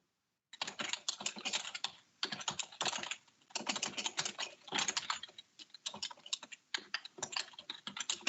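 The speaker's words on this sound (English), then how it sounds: "And I don't know why I'm typing these." Fingers typing on a computer keyboard in a police advisory board meeting room, quick clattering bursts of keystrokes broken by short pauses, close and clear with no talk.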